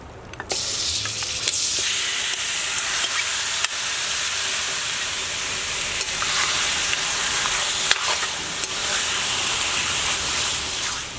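Goat meat sizzles loudly and steadily in hot oil, a dense continuous hiss with occasional small pops, close up and with no talking.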